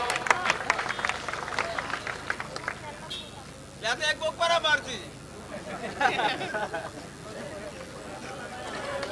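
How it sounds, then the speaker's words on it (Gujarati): Crowd at a political rally in Rajpipla, with scattered clapping and brief bursts of applause rising amid chatter and a speaking voice over a public address. "આપણે તેમનું ભવ્ય તાળીઓ સાથે સ્વાગત કરીશું."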